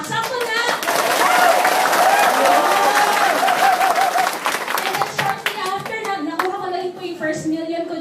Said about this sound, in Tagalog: Kaya dapat palakasan din kayo ng palakpak.